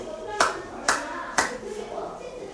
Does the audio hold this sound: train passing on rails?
no